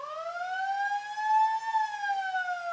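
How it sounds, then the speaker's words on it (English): A siren sounds at a country football grand final ground, a long continuous wail rising slightly and falling back, steady and fairly loud with no talk over it. "Work experienced kids on the siren, who's loving his work."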